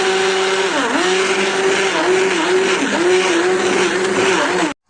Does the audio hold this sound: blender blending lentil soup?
yes